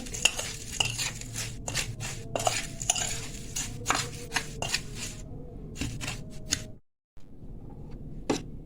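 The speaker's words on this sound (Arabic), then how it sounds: "اقلبهم بقى اخلطهم في بعض كده وانزل فيهم الفراخ" Ingredients for chicken strips being stirred and mixed in a bowl, with scraping utensil clinks and irregular knocks, close and moderately quiet, ending in a brief silence.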